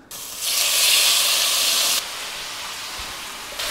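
Rabbit meat hits a hot pan for a peanut Hokkien noodle stir fry and gives a loud, steady sizzling hiss that lasts about a second and a half, then drops to a softer, continuous frying crackle.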